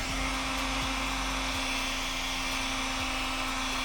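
A heat gun blows hot air over vinyl wrap on a drift car, a steady whining motor hum with a constant airflow hiss, close and even throughout, with no talking.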